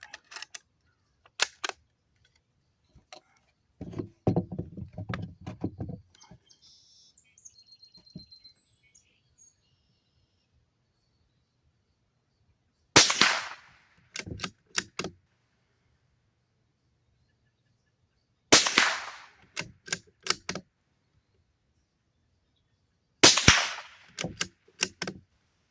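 Sharp gunshots ring out outdoors, a few early cracks followed by widely spaced loud reports with echoing tails, and birds chirp faintly in the quiet gaps.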